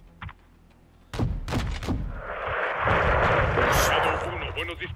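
Several sharp gunshots ring out in quick succession in Call of Duty: Modern Warfare 2 (2022), followed by a sustained roar of heavy fire and rumbling, with voices underneath.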